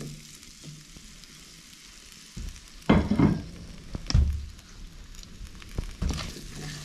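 Potatoes go into a hot pan in a log cabin during a snowstorm, giving a quiet sizzle broken by a few louder bursts of crackling and spatter as they hit the fat and are moved around.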